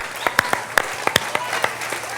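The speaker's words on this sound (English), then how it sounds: "a round of applause." Applause at a fundraising dinner, with scattered individual claps from a few nearby hands and a softer crowd bed behind them.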